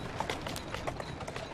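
Horse hooves clip-clop in quick, irregular running beats in the video game Assassin's Creed Syndicate, busy and close with faint background noise.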